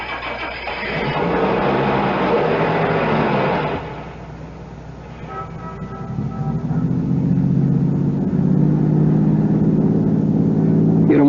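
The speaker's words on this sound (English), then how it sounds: "Start the car." A car engine cranks and catches, then settles into a steady mid-pitched drone as it pulls away and keeps running, a sound effect from a radio drama; the first few seconds are busier and louder before a brief dip, then the motor holds on evenly.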